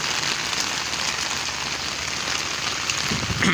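Rain falling on a rooftop terrace, a steady dense patter of drops hitting the surface, even and close throughout with no voices.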